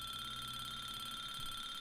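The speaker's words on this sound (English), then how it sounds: "Is that my alarm?" A steady electronic alarm clock rings inside a video game, a continuous high-pitched tonal beeping that holds level and fairly loud for the whole stretch with no talk over it.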